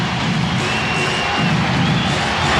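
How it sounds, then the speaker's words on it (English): Arena crowd noise swells steadily at an NBA Finals game in Portland as the home fans try to lift the Blazers, a dense, continuous roar of cheering and shouting with no break. "And the crowd trying to get the Blazers back into it."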